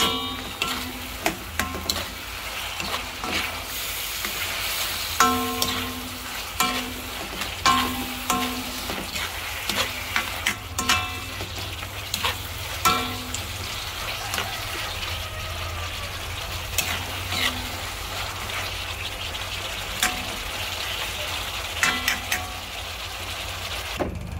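Pork with green and red peppers sizzles and crackles steadily in a hot pan, punctuated by repeated clacks and scrapes of stirring over nearly half a minute, with no one talking.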